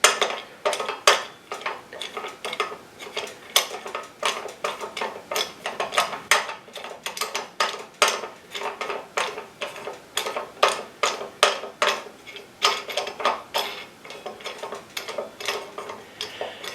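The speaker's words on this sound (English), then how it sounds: "this is your tracking adjustment, which is just a thumb screw" A thumb screw on the tracking adjustment of a Delta/Milwaukee bandsaw is turned by hand, producing a long series of close, irregular metallic clicks and ticks, with no speech over it.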